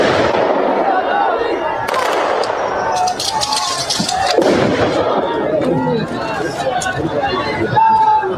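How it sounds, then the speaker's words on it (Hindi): A ceremonial gun salute fired by forces at a state funeral in Baramati, with sharp reports ringing out over a murmuring crowd and continuous talk throughout. "ये फायरिंग करके अंतिम सलामी दी जाती है फोर्सेस की तरफ से"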